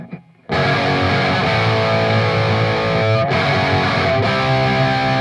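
A heavily distorted electric guitar strums sustained full major chords, loud and dense, with a brief quiet lead-in before the first chord rings out.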